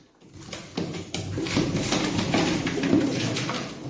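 Breeding pigeons kept in pairs coo in soft, repeated low pulses close by, with faint scuffling and rustling between the calls.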